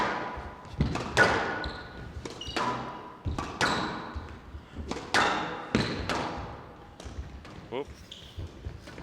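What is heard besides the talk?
squash ball rally ending in a forehand drop shot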